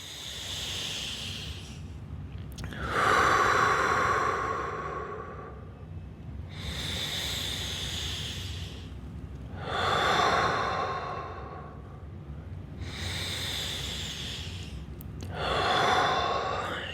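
Slow, deep yoga breaths, each long airy inhale and exhale swelling and fading in a steady cycle of about four breaths, close and with no talk.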